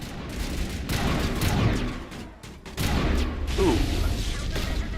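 Loud, dense gunfire from a sci-fi squad firefight in Mass Effect, sustained bursts and impacts with a brief lull midway, all close and continuous.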